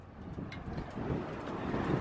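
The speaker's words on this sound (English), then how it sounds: "It's a little windy, so I hope it's not too bad for you." Gusty wind buffets the microphone outdoors beside a 2014 Harley-Davidson Iron 883 motorcycle, a low rumbling roar that swells and rises steadily across the short stretch with no speech.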